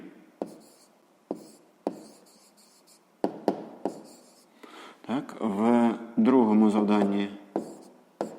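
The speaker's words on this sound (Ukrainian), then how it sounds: "Пишемо відповідь." A pen scratches answers onto paper during a sixth-grade maths exercise, in short sharp strokes with pauses between them, close by, while a person speaks over part of it.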